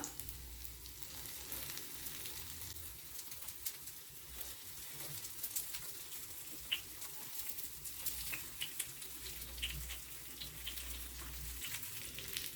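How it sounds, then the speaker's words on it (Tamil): Idli batter snacks frying in oil, a faint, steady crackling sizzle with small scattered pops, low and even throughout with no voices. "இந்த பக்கமும் நல்லா ஃப்ரை ஆகி வரட்டும்."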